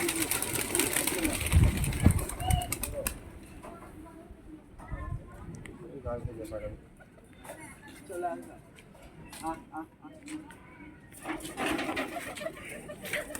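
Pigeons coo and shuffle inside a pigeon house, their low murmur running beneath someone talking through most of the stretch, with louder bursts of movement near the start and end.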